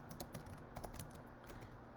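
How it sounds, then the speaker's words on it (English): Keys clatter on a computer keyboard in a quick, uneven run of soft clicks over a steady low hum, close and alone with no talking. "let me just finish that typing"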